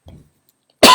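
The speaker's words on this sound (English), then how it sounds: "yes, it was a cough, but don't worry." A single loud, abrupt cough bursts out close to the microphone after a moment of near silence, preceded by a faint low murmur.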